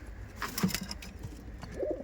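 An Allahabadi Kashma Doma giribaz pigeon gives a couple of distinct low coos, one early and one near the end, close by over light background noise.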